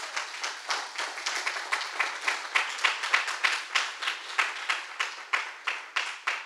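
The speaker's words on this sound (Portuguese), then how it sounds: "Dá uma salva de palmas para Jesus." A standing church congregation claps in a steady, rhythmic beat, loud and even, each clap sharp and repeating at a brisk pace throughout with no talk.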